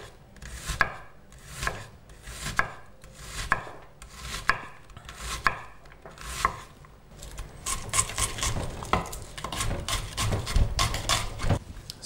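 A knife chopping an onion on a cutting board, first in slow separate strokes, then in a fast continuous run of close, crisp cuts.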